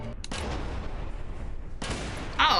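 Gunfire in the prison game Prison Architect, a dense burst of shots and rumbling booms running most of the clip, dropping briefly before a second loud volley near the end.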